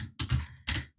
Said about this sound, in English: Type in some stuff.